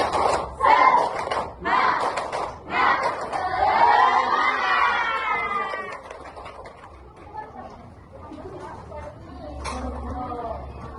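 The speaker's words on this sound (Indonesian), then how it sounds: "Oke, tepuk semangat." A class of students performs a spirited rhythmic clapping chant, loud bursts of claps and shouted voices in the first half, fading into softer chatter and talk afterward.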